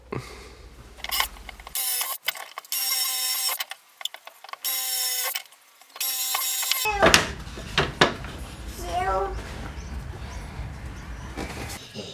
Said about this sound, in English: Here I'm just rounding off the edges of the aluminium just so it's a little bit neater and less dangerous.